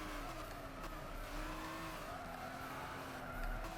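A Mercedes SLS AMG race car in the Gran Turismo 6 video game, its engine droning steadily at high revs with tire squeal and skidding throughout, continuous and close with no talk.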